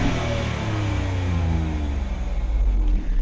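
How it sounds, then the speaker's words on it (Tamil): Hyundai Venue N-Line with the 1.0 turbo petrol engine, its exhaust droning steadily and loud up close, with a low rumble that swells slightly near the end as the revs rise. "எக்ஸாஸ் வந்து பார்த்தோம்னா உங்களுக்கு ரொம்ப லவுடாக இருக்குங்க."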